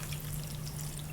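Marinade liquid pouring onto beef for a Mongolian beef stir fry, a steady close trickle and splash running evenly for about a second with a low hum beneath.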